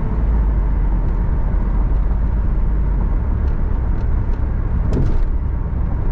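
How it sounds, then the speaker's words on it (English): A 1994 Chevrolet Camaro Z28 with 43,000 miles cruises down the road, its engine and road noise forming a steady, loud low rumble with no break, plus a few faint clicks and a brief knock near the end. "welcome to the driving video of the 1994 Chevrolet Camaro Z28"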